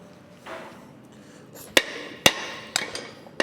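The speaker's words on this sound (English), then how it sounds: "we are going to absolutely launch the arm down, and it's going to swing round and then stamp our axe with our maker's mark" An Anyang power hammer stamping a maker's mark into a forged axe head, four sharp metallic strikes spaced about half a second apart after a soft mechanical whoosh, loud and close.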